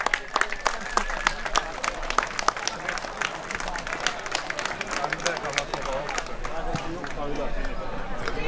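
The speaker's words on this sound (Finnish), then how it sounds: "Ja antakaa aplodit nyt meidän kisaajille." Crowd applause for contestants at a chili festival's Last Man Standing contest, with sharp, fairly close claps over murmuring babble. The clapping swells and stays sustained across the whole stretch.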